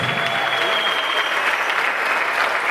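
A church congregation at a Sunday service applauds loudly and continuously, a dense even wash of clapping filling the room with faint voices mixed in.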